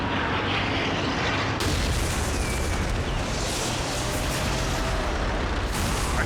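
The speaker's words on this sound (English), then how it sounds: "Artillery fire imminent, sir." Artillery fire in Call of Duty: World at War Final Fronts forms a dense, continuous roar of explosions and rumbling booms with crackling blasts filling the scene, loud throughout and no speech.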